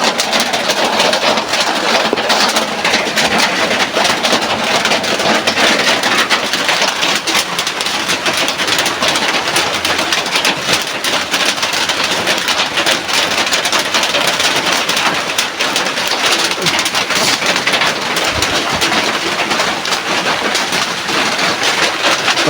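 Heavy rain pours in a dense, continuous roar that stays steady and loud throughout, with no voices.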